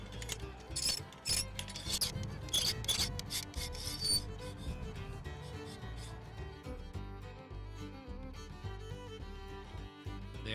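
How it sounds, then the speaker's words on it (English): Ramrod worm scraping and twisting inside an antique rifle barrel to retrieve a cloth patch, a steady metallic grinding and ratcheting rub with repeated clicks and rasping, fairly faint and continuous throughout. "Patches are cloth that are either linen or cotton that are used to wipe down the inside of the barrel with the worm."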